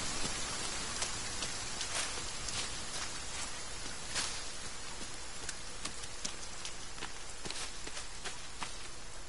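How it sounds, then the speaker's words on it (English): Steady rain falls in the survival video game The Forest, a constant broadband hiss with scattered sharp drop ticks and faint footstep-like thuds throughout, no talking. "Why the fuck does it have to rain?"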